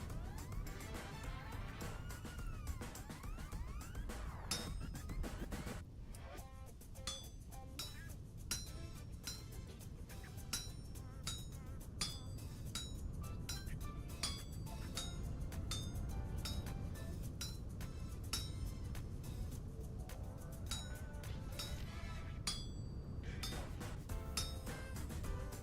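Chiselling in Vintage Story gives dense repeated sharp clinks and knocks of a chisel on stone, rapid and irregular, fairly close, running on throughout with faint talk in places.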